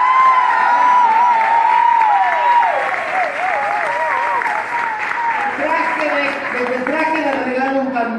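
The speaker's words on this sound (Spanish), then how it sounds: "¡Un aplauso para el Coque!" Audience applause at an intimate birthday recital, a steady, full-room clapping that runs the whole time while a voice carries on loudly over it.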